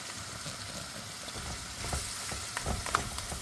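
Mussels, some still frozen, dropped into a hot pan for Italian baked pasta, giving a steady close sizzle and frying hiss with a few louder crackling bursts toward the end.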